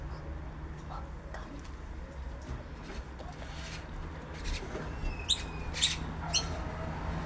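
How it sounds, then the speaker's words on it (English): Various Australian birds calling near a backyard water pond, with scattered chirps and a few sharper whistled calls at moderate distance over a low steady background hum. "He is drinking from the water pond, and there's so much birds here."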